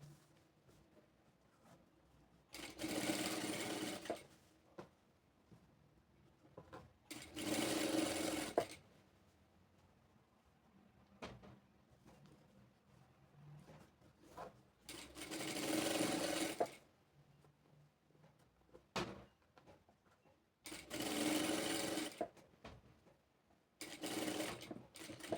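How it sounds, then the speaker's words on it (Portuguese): Sewing machine stitching a seam on a cotton dish towel with an appliqué patch, close by in several separate whirring runs of a few seconds each, with quiet pauses between them. "E fazendo uma costurinha do lado."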